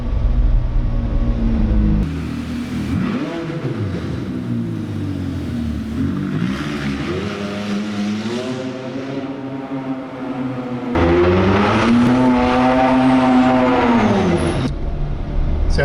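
A McLaren 570GT with its exhaust in race mode, pulling away in first gear with a manual shift, roars loudly and close by, its engine note rising and falling through several revs over a steady rumbling base.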